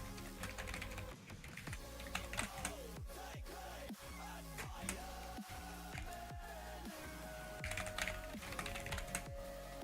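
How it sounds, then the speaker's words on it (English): Rapid typing on a computer keyboard while building a game in Geometry Dash, a dense, continuous clatter of keystrokes with no pauses, close to the microphone, over a busy background of game music and sound. "Oh my god, I keep typing the J at the end."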